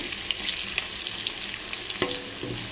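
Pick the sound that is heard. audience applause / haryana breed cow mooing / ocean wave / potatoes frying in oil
potatoes frying in oil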